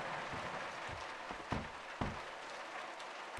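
Rain in the video game Mundaun makes a soft, even hiss that fills the whole clip, with a couple of dull thumps partway through. The sound is faint and steady, and no one talks.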